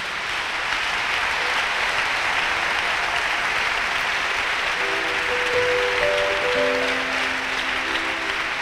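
A church congregation claps steadily as a dense, continuous wash of applause, with faint sustained musical tones entering in the second half.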